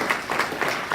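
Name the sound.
congregation applause in church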